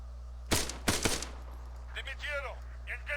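Gunfire aimed at a soldier in the military game Arma 3: two sharp bursts of close shots early on, followed by fainter warbling radio-like chatter and distant activity.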